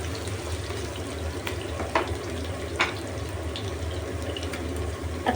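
Onions sautéing in a hot pan for pancit canton guisado give off a steady, even sizzle, with a few soft scraping clicks as they are stirred.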